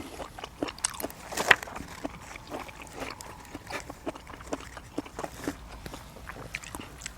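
Crunchy food is chewed close up in irregular crisp bites and snaps against a quiet evening background, with a faint voice now and then.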